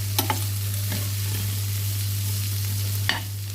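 Chopped onions and bell peppers sauté together in a hot pan, giving a steady close sizzle with a few sharp scrapes and clicks of stirring and a low constant hum underneath.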